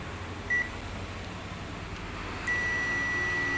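A thin electronic beep from a digital multimeter on its continuity setting sounds briefly, then returns as a sustained steady tone over a low hum while testing a car amplifier transistor.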